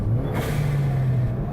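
A Ford Focus ST with a catless Levels downpipe and a cut-down muffler revs up. A loud, close, steady engine drone carries a rising whoosh of intake and turbo spool, with little exhaust note.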